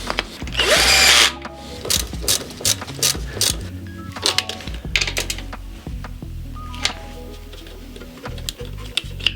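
A power drill unscrewing a part while an engine is swapped on an Alfa Romeo MiTo, one long loud burst at the start, then shorter bursts, clanks and clicks of tool and parts handling close by.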